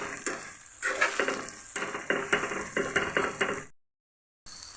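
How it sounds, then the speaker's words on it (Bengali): Mustard and green chili paste sautéing in a pan for a Bengali mustard fish dish, giving a close, steady sizzle broken by repeated scraping stirs and light utensil knocks, then a brief silence before the frying resumes. "সর্ষে কাঁচা লঙ্কা বেটেছিলাম সেটা দিয়ে দিচ্ছি। একটু কষিয়ে নেব।"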